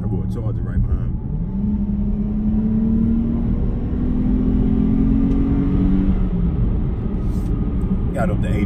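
A 2019 Dodge Challenger BlackTop GT accelerates hard, its engine a loud sustained rumble with a rising tone that climbs then levels off, heard from inside the car, ending with a few clicks and knocks.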